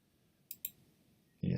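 Two quick, crisp computer mouse clicks in close succession, faint and near, against a quiet background, followed by the abrupt start of a voice.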